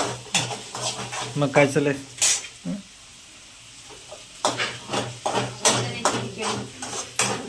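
Sabudana khichdi stirred and cooking in a pan, with repeated scraping spoon strokes and a soft sizzle running throughout, close and fairly loud, interrupted by a brief pause, while people talk over it.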